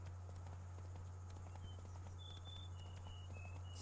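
Hooves of the horse Roach in the video game Witcher 3: faint, steady clip-clop of a walking horse over a constant low hum, with a few thin high tones near the end.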